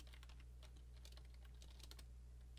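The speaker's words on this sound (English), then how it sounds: "I'm just gonna type it again" Quick, steady typing on a computer keyboard fills the clip, with soft close clicks running continuously over a low background hum.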